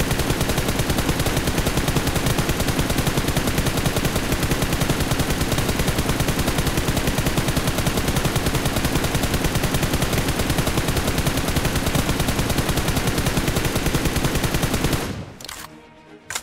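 Automatic gunfire sprays nonstop in BGMI on iOS, a dense rapid stream of shots holding loud and even for about fifteen seconds before cutting off abruptly into near silence.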